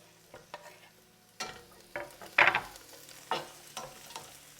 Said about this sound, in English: Just going to add the peppers now.